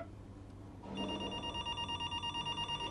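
A telephone bell starts ringing about a second in, repeating in steady regular bursts, fairly loud and close, with no talk over it.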